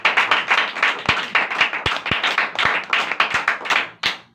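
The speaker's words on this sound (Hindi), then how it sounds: "एक बार जोरदार तालियां।" Clapping at a Christian sermon gathering, a loud rhythmic series of sharp, distinct hand claps in a steady pulse, close and prominent, with a final clap after a brief pause.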